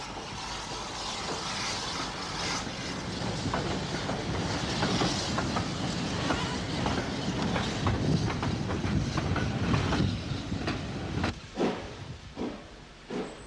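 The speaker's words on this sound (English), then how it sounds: "WT number 53, obviously not long out of the works, restarts a Dublin-bound train out of Gora Wood." An Irish WT class steam locomotive, freshly overhauled, restarts a Dublin-bound passenger train from a station in Ulster. A loud, continuous roar of steam and rolling stock builds, with sharp exhaust chuffs breaking through near the end.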